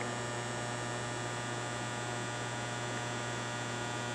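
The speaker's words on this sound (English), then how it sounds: "They're really bright and they're great to look at, but they're loud overhead" Bright overhead lights in a car showroom give off a steady, unbroken electrical hum with a constant buzzy drone and no variation, loud and continuous with no voices.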